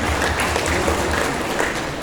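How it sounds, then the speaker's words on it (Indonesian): Applause from an audience at an official speech by a regional religious affairs office head, a short, dense and fairly loud patch of many hands clapping at steady intensity. "Beri tepuk tangan kita semua"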